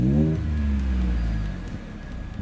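A deep exhaust rumble from a 2015 Ford F150 2.7L EcoBoost pickup with a quiet Borla catback exhaust swells and then settles into a steady low idle, close by with no talking.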